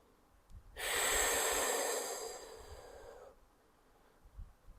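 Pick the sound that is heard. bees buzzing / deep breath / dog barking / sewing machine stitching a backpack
deep breath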